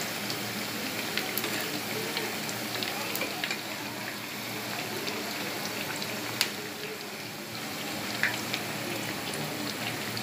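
Sweet jaggery tikiyan fry in oil over medium heat, giving a steady, even sizzle with soft crackling pops and a few sharper spatters, close and continuous with no voices.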